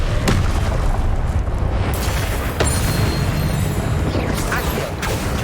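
Spell-casting combat in Hogwarts Legacy sets off blasting-spell explosions, several loud booms and bursts cracking over a dense, continuous roar of game effects.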